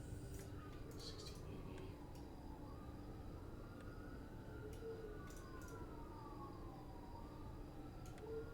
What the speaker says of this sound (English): That's a lot of sirens.